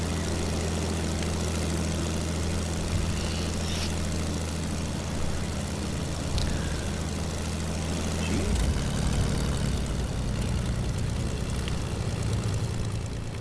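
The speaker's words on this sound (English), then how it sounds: "I'm gonna land the plane." A plane engine in the Fortnite video game drones steadily and close, a constant low propeller hum that shifts pitch partway through, with faint game effects flickering above it.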